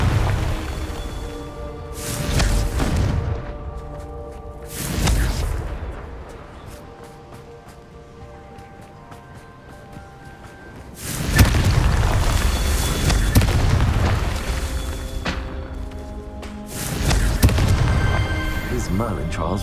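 Fire spell blasts in Hogwarts Legacy, heavy booming explosions going off one after another at intervals, loud and close, each followed by a rumbling tail.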